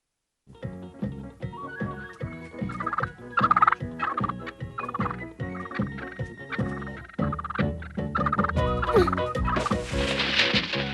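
A flock of turkeys gobbles loudly and repeatedly in quick, overlapping bursts, a rhythmic chorus that builds and continues throughout with no talking.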